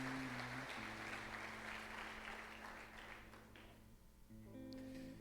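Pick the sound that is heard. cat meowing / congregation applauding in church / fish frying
congregation applauding in church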